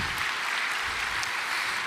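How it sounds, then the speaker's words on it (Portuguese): A church congregation applauds in a dense, steady wash of clapping, moderately loud and continuous through the short moment. "Dá uma salva de palmas para ele"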